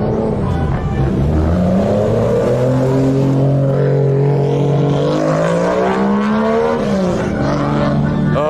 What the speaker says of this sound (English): Oh, straight six sounds so good.